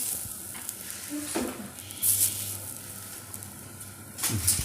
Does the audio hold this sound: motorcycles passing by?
no